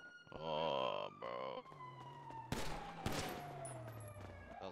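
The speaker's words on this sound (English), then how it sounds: "That was warning shots." Warning gunshots ring out in GTA V, a couple of sharp cracks amid a police siren wail and busy game noise, fairly quiet overall.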